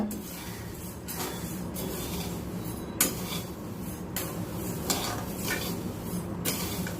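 Rice and roasted gram are dry-roasted and stirred in a pan for a homemade baby health mix. A spoon scrapes and clinks against the pan in steady, repeated strokes, close and moderately loud, over a light rustle of grains.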